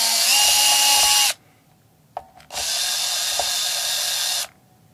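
A power drill runs in two bursts, a high whine for about a second and then about two more, as it backs the pickguard screws out of a Squier JV Stratocaster electric guitar, with small clicks in between.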